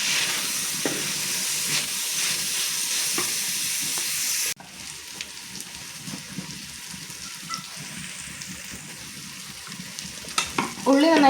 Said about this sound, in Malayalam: ഉള്ളി നന്നായിട്ട് വഴണ്ടിട്ടുണ്ട് കേട്ടോ.